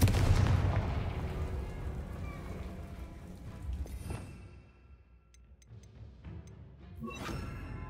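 A Confringo blasting spell in Hogwarts Legacy: a heavy blast that booms up front, then rumbles and fades, followed by faint crackling debris and a smaller burst near the end.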